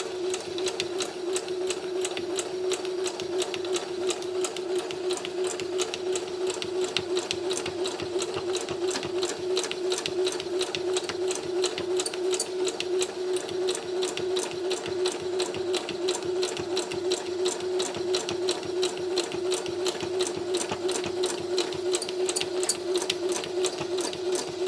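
A sewing machine stitches scrap fabric for a mini spring landscape, a steady rapid mechanical whirr and ticking running alone without pause at moderate volume.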